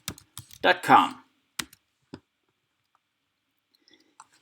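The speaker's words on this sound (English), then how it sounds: "I'm going to open a new tab and I'm going to type in adwords.google.com." Someone types a web address on a computer keyboard with scattered, crisp key clicks that come in short bursts and single taps. A brief snippet of speech sits near the start.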